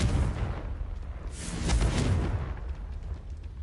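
A Confringo fire spell blasts off in Hogwarts Legacy, a rushing, muffled burst that swells briefly in the middle and trails into a low rumbling roar.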